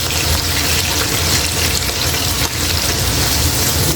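Loud, steady sizzling of liver frying in a hot pan, a continuous hiss without breaks and no voices.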